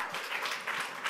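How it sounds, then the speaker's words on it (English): Conference audience in New York applauding at a women's tech event, a brief moderately faint patter of many hands clapping with a faint voice underneath. "You deserve a round of applause."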